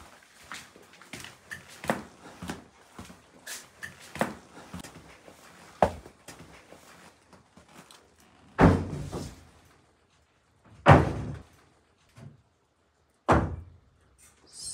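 A door banging in a dark building during a night-time paranormal investigation, heard as several loud, sharp thuds spaced seconds apart, with quieter knocks and faint rustling between them.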